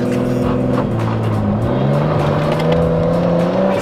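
A rear-wheel-drive car with a turbocharged RB25 six-cylinder engine accelerates, its close, loud engine note climbing and shifting pitch steadily over several seconds with no talk.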